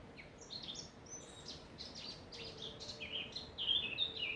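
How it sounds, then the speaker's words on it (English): Several birds sing and chirp outdoors at a Somerset bottle dump dig site, bright varied calls overlapping steadily throughout at moderate distance, with no talk. "Listen to the birds."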